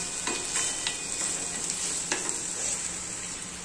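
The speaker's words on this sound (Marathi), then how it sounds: "आता आहे ना हा टोमॅटो चांगला भाजून घ्यायचा." Tomatoes roasting in a hot pan for egg kurma, a steady soft sizzle with a few quick scraping stirs of a spoon, close and fairly quiet, no talking.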